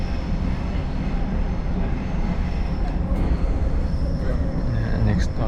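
Train ride between stations near Sydney, a loud steady interior rumble and rattle of the carriage with occasional faint squeals, and people faintly talking in the background.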